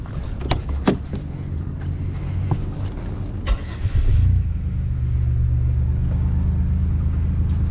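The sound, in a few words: car engine running after fuel pump repair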